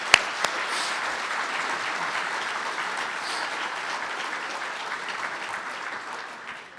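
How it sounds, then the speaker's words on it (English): Audience applause at a Trooper and Dispatcher of the Year 2013 ceremony honoring the dispatcher of the year: a dense, steady wash of many hands clapping, sustained evenly throughout and easing slightly at the end, with no talk over it. "let's give them a round of applause"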